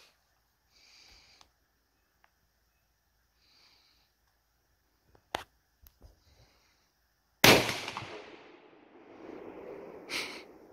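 Folding pump shotgun fired at an outdoor range: after some quiet and a few small clicks and knocks, one loud sharp blast with a long fading echo, followed by a second, softer bang.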